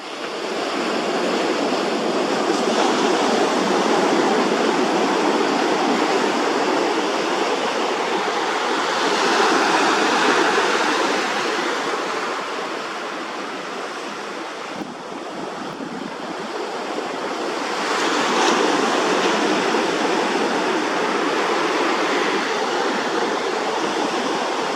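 Ocean surf breaking on the shore with an onshore wind, a loud continuous roar that swells and eases as waves roll in, with no voices.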